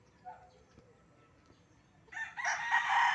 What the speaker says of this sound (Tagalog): Boses lang ng manok.